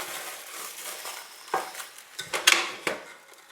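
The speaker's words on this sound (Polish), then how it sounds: "Minęło 50 minut i czas jest zagnieść ciasto" Heavy metal spoon working a sticky seeded bread dough in a bowl, giving soft wet slaps and a few sharper scrapes against the bowl, close and moderately loud, with no talking.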